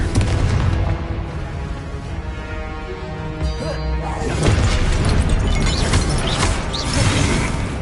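A Confringo blasting spell in the Hogwarts Legacy video game sets off loud, continuous booming explosions with crashing, shattering debris, one burst rolling into the next throughout.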